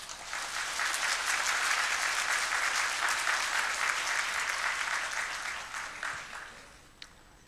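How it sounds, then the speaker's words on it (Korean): A church congregation applauds to welcome a pastor at a Sunday worship service, a broad sustained roar of many clapping hands that holds steady for several seconds before fading out, with one faint sharp knock near the end. "우리가 큰 박수로 환영해 주시면 고맙겠습니다"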